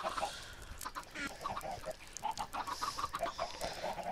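Chickens in a multiplayer survival video game cluck repeatedly in short, quick calls over a steady background, close and fairly clear, with no talking.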